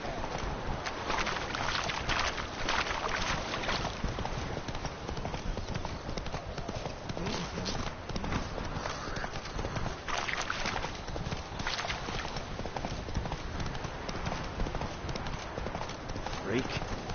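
Horse hooves clip-clopping in The Witcher video game, a steady run of close hoof beats going on throughout, with someone talking over them.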